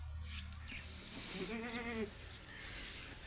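A goat bleats once, a wavering mid-pitched cry, over the faint ambient rustle of a goat farm barn, with other livestock stirring nearby and no talk.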